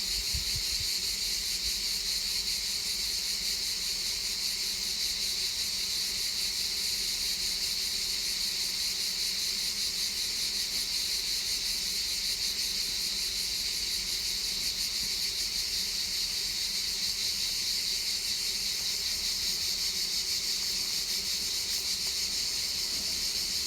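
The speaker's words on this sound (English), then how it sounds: "So many bees and insects. Unbelievable." Steady high-pitched insect drone from thousands of bees and insects in a garden among new pine trees, continuous and fairly faint with no talking.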